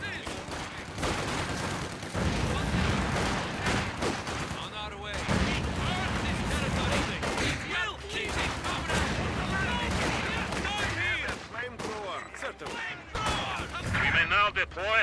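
Heavy, continuous gunfire and explosions in a Company of Heroes 2 battle, rapid bursts layered with booming impacts, loud and close throughout, with voices talking over the din.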